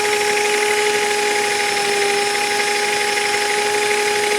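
A steady, high-pitched whine of a magnetic drill line boring through metal, constant and loud with a sustained tonal hum and no pauses.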